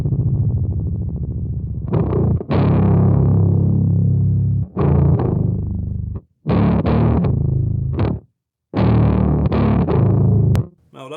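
A heavily down-tuned electric guitar played through a Kemper profiling amp with distortion, thick low chugging chords in several loud bursts separated by short silences.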